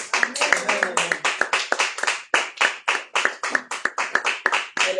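A church congregation claps in a rhythmic, steady beat through a lively worship service, the hand claps sharp and close together with voices singing or calling out beneath them.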